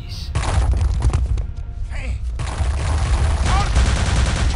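Gunfire in the Return to Castle Wolfenstein video game, set in catacombs, with bursts of shots over a steady low rumble of game ambience across the whole stretch; a voice talks over parts of it.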